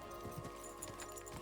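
Horse hooves clip-clopping at speed in the medieval video game Kingdom Come: Deliverance 2, a rapid, steady patter of hoofbeats over a constant hum of game sound.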